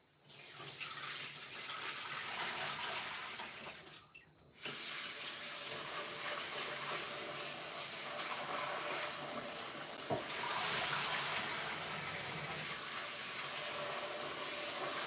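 A kitchen tap runs steadily over a bowl being rinsed. The loud rushing water stops briefly around the fourth second, then resumes with a small splash later, and no one speaks.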